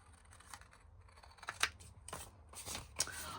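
Scissors snip through paper in a few short, crisp cuts close by, with soft handling rustles between them and no talking.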